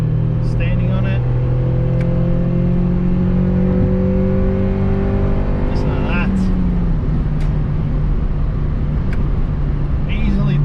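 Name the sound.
Honda Civic EK4 B16A2 engine accelerating hard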